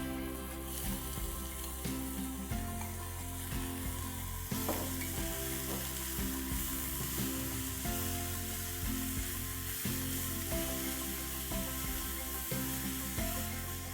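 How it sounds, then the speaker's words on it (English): Finely chopped onions, four medium ones, fry in hot oil in a kadhai, giving a steady, close, continuous sizzle with occasional stirring scrapes and no voices over it. "I'm going to fry 4 medium-sized onions that I have finely chopped."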